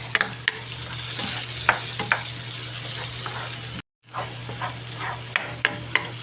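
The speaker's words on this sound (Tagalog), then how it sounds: "I-join first na natin silang igisa lahat." Ingredients for ginisang munggo, including tomatoes, are sautéed in a pan: steady sizzling with frequent sharp utensil taps and scrapes, broken by a brief moment of silence midway before the frying and stirring resume.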